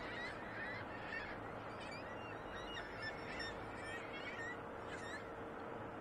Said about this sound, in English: the seagulls start to get a little bit more excited